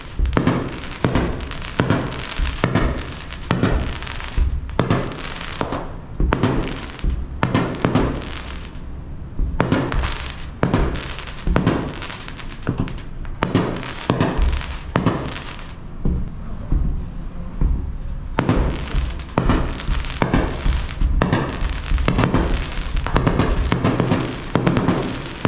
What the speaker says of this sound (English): After dinner, we were able to watch the fireworks show off of our veranda